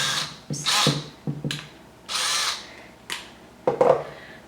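A drill enlarges a hole in a mini blind roller bar with several short, close whirring bursts. Each burst rises quickly and stops abruptly, with brief pauses in between and no talking.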